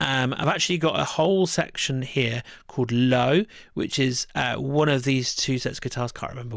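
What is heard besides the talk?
No distinct noise like a dog, phone or traffic.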